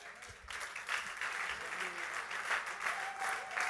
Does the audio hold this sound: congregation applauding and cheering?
yes